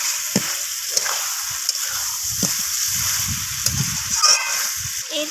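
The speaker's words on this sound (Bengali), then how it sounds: "তো আবারও সমস্ত কিছু কষিয়ে নেব যতক্ষণ না মশলা, আদা, রসুনের কাঁচা গন্ধ চলে যাচ্ছে" Chicken sautéing in a pan with spices, ginger and garlic for a Bengali red chicken curry gives a steady close sizzle and crackle with occasional stirring scrapes, and a faint voice speaks underneath.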